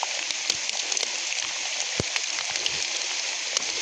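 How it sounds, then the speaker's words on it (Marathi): Rain falls at night in a steady, close hiss, with scattered louder drops striking nearby surfaces throughout. "ते कसं पाऊस पडतोय ना"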